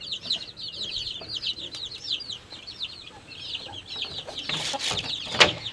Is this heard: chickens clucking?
yes